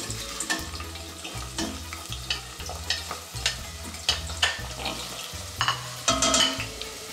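Chopped onion fries in a pan while being stirred, part of making a wine octopus dish; soft sizzling runs beneath repeated scraping stir strokes and low knocks at an uneven rhythm, with no talking.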